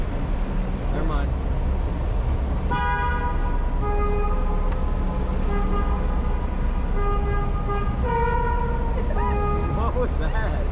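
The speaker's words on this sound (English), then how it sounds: "This place got a train horn" A train horn effect on a Nemo theme park ride sounds in several loud, sustained harmonic blasts over a busy, noisy ride background with people talking.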